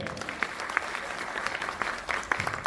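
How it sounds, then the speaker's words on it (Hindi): An audience claps for Hiren Purohit at a Saptak instrumental show in Godhra: a dense, steady burst of many hands with a few sharper claps standing out, sustained for the whole stretch. "मैं चाहूंगा कि हिरेन पुरोहित जी के लिए एक बार दिल से जोरदार तालियों।"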